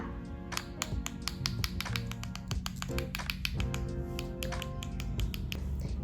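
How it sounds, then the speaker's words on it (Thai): A paintbrush tapped repeatedly on a pencil to dab paint onto children's artwork, giving a steady stream of sharp, close wooden taps with no talk. "แล้วเด็กๆก็ เคาะสีลงไปในงานของเรา"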